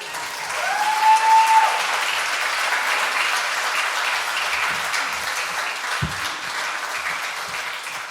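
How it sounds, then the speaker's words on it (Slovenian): Audience applause at a charity concert of a music and arts festival, a dense, steady wash of clapping from a large crowd that carries on throughout, with a brief whistle early on. "En aplavz, prosim."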